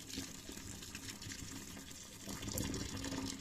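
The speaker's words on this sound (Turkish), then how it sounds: "Ve daha sonra şöyle kaynar suyu üzerine döküyorum." Boiling water pours steadily over a dishwasher tablet into a clogged sink drain, making a continuous close gushing splash that grows a little stronger toward the end. No one talks.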